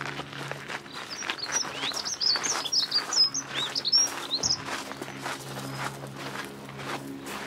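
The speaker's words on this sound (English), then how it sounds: "Cute bird noise." Small birds chirp outdoors near an English hotel in a string of bright, quick tweets. Footsteps and low outdoor background noise continue under them.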